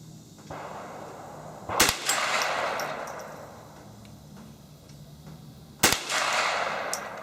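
Two loud, sharp rifle shots fired at a paper target on an outdoor range, several seconds apart, each followed by a short echoing tail over steady background hiss.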